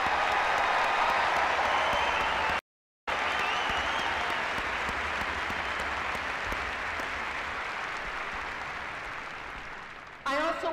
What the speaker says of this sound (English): Let us start with a round of applause for all of our graduates.